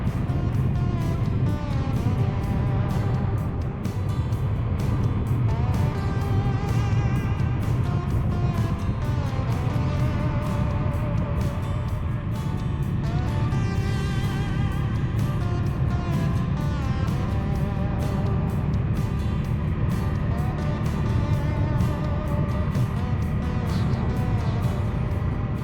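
A motorcycle cruising along the road toward Lhasa in Tibet, its engine a steady, continuous drone with a rough, buzzing texture and rushing wind throughout, loud and close.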